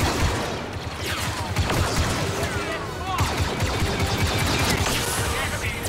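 Blaster fire in Star Wars Battlefront II, rapid continuous volleys of sharp energy shots with clattering impacts and battle noise throughout, the weapon pushed until it overheats.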